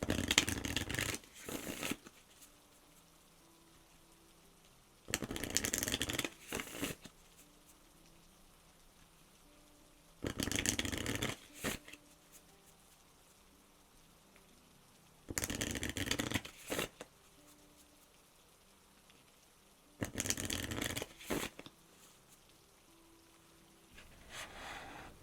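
Oracle cards shuffled close up for an ASMR tarot reading, five regular bursts of riffling and soft slapping about five seconds apart, with quiet gaps between.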